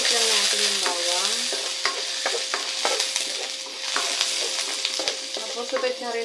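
Chopped garlic sizzling in hot cooking oil as it is stirred in a pan, a steady crackling fry with scraping stir strokes and small clinks throughout.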